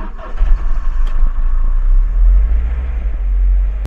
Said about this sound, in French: Donc quand tu démarres la voiture